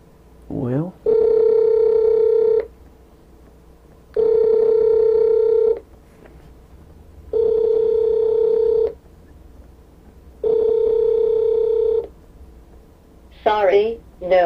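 Calling ring tone from a Magicfly wireless video door phone, four evenly spaced electronic buzz-tone bursts, loud and close, with brief synthetic speech prompts at the start and end.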